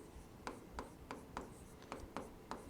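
A pen scratches across paper while notes are written, close up and quiet: about eight short, regular strokes come in a steady rhythm against a soft background hiss, with no voice over them.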